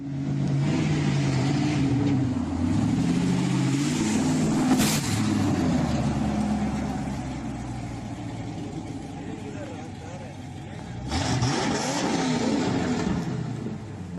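A powerful car engine roars and revs, rising in pitch as it accelerates, fading slightly, then surging loudly again.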